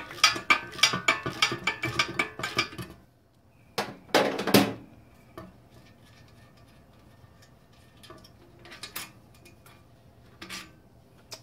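Metal clicks and ratcheting from bolts being undone to pull the wheels off a welder, in dense rapid bursts at first, then sparser clanks and ticks nearby, with no talking.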